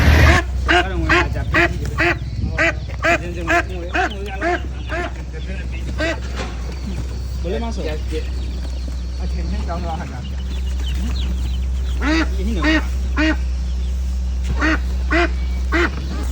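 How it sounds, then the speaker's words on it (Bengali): Several ducks quacking loudly nearby in rhythmic bursts of repeated calls, with a pause midway and a steady low engine-like hum underneath. "এই জন্য 4-5টা হাঁস কিনলাম।"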